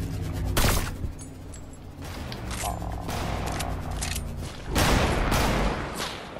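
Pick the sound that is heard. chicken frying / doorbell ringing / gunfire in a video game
gunfire in a video game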